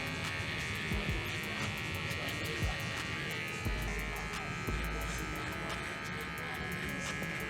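Electric hair clippers buzz steadily throughout a taper haircut beneath a Lakers design, a continuous close motor drone with brief bumps as the blades move across the head.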